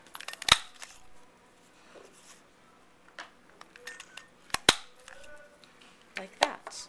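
A scallop edge paper punch biting through cardstock, producing several sharp, close clicks and snaps spaced irregularly, with quiet handling rustle between them.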